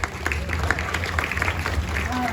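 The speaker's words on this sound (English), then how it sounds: "Yes, applause." Audience applause fills a college grand opening ceremony for new buildings, a steady, dense patter of many hands clapping throughout, with voices mingling in the crowd.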